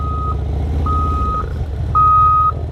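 Three steady electronic backup beeps sound from a big truck reversing, each tone a fraction of a second long and evenly spaced, over a constant low diesel engine rumble up close.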